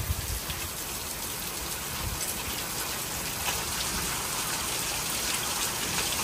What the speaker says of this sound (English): It's been raining for about 2 minutes.